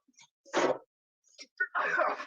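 One person coughs softly in a quiet room during a stage play, two short muffled bursts separated by a pause, followed by a rougher, throaty cough.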